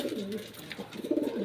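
Racing pigeons coo softly during homing training, a few low throaty rolling calls close by over faint background noise.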